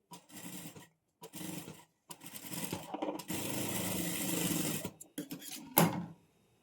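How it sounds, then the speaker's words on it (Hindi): Domestic sewing machine stitching a garment neckline at home, running in several short bursts of steady whirring with brief pauses between, then a longer continuous run and a final quick stop, fairly close and moderately loud. "हमें सिर्फ ऐसे सिलाई करनी है।"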